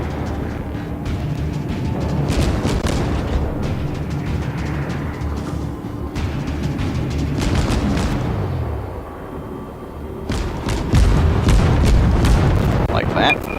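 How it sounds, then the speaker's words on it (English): Naval guns in the warship game World of Warships boom in a loud, heavy salvo of rumbling blasts that roll on for several seconds, fade briefly, then rise again with a deep low thump near the end. "So if you double click, you'll fire the whole salvo."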